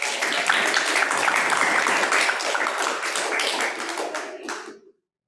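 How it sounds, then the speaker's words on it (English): Seminar audience clapping together in a room, a dense steady burst of many hands that holds for several seconds, then thins and stops abruptly near the end. "All right, guys, clap it up."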